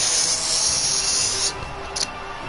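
Champagne sprayed on the podium after a race in an F1 racing video game, a steady loud hissing spray that continues for a couple of seconds, then cuts off with a brief final spurt.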